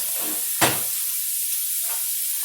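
Soup vegetables sautéing in a pot give a steady soft sizzle and hiss, broken by one short sharp clatter near the start, with no one speaking.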